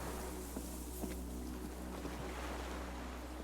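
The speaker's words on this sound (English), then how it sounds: "Distant sound of cargo ships, signal hordes echo in the water." Ambient ship and water atmosphere from the video game Disco Elysium, with distant cargo ships on the sea: a steady low drone under soft wind and washing water, with faint, occasional thuds and horn-like tones far off.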